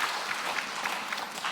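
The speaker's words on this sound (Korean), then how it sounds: "감사의 박수 올려드리겠습니다." A church congregation claps together in thanksgiving, a brief, steady wash of many hands filling the room at moderate loudness without any voices over it.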